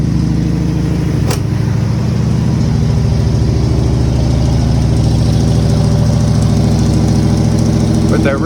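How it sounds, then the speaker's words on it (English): A 1977 Ford Thunderbird California Special idles loudly up close with a deep, rumbling growl, a steady throbbing engine note holding throughout. "With the original engine, she used to purr. Now she just downright growls."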